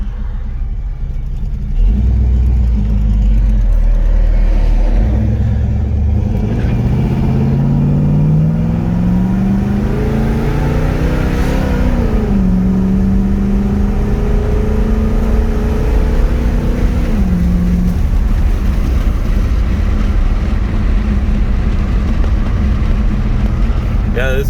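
A 1968 Pontiac LeMans with a 455 V8 accelerating on the road, a steady loud engine drone rising in pitch as the car gets on the throttle, with wind and road rumble throughout.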